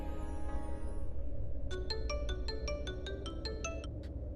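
A phone ringing on a call in a Tamil domestic drama, a regular patter of bright electronic tones pulsing about nine times over steady room ambience and low music, starting partway through and fairly clear.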